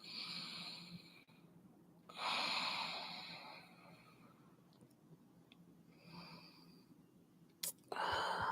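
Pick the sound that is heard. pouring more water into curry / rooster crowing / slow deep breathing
slow deep breathing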